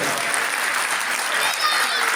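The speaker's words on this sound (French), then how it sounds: "on peut applaudir tous les sportifs de notre commune" Steady, dense applause from a crowd at a local sports awards ceremony, continuous hand clapping filling the whole stretch with no pauses.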